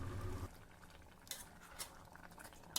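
Jackfruit payasam is stirred and mixed in a pan, with soft scraping and clinking of a spoon over a low simmering bubble, faint and close.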